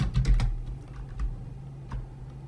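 Someone types a SQL command on a computer keyboard, with a handful of soft, close key taps at irregular intervals over a low background hum.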